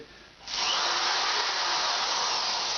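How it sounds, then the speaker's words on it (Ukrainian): A drill spins an electrode rod against sandpaper clamped in a vise, starting after a brief quiet moment and then grinding in a loud, steady, close abrasive whir for the rest of the clip. "шуруповерт або дрель і в тісках зажата наждачна бумага"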